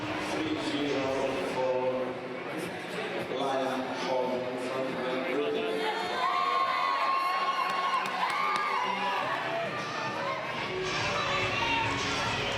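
A kickboxing crowd at the Irish Kickboxing Open roars and cheers between rounds, with shouts, whoops and chanting from Irish and GB supporters blending into a dense, continuous din at moderate distance.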